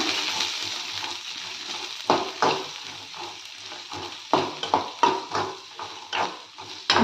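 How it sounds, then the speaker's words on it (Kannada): Onions and Guntur chillies sizzle steadily in a pan on medium flame, broken by repeated scraping stirs from a spoon that come in irregular bursts, close up with no talking. "ಎರಡರ ಜೊತೆಗೆ ನಾನಿಲ್ಲಿ ಈರುಳ್ಳಿಯನ್ನು ಕೂಡ ಆ್ಯಡ್ ಮಾಡ್ಕೋತಾ ಇದ್ದೀನಿ ಸೊ ಇವಾಗ ಸ್ವಲ್ಪ ಫ್ರೈ ಮಾಡ್ಕೊಳ್ಳೋಣ"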